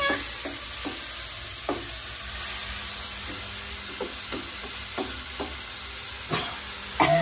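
Holy basil for pad kaprao stir-fried in a wok over high heat, a steady loud sizzle and hiss with repeated clanks and scrapes of the spatula against the metal.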